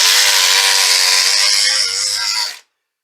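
A sewing accessory bought for about 40 euros runs with a loud, harsh buzzing whine like a small chainsaw, steady and close for over two seconds before cutting off abruptly into silence.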